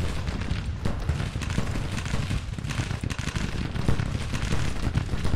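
Musket volleys and artillery fire from a Civil War battle in the strategy game Grand Tactician: The Civil War, heard as a dense, unbroken crackle of gunfire with heavy booms throughout.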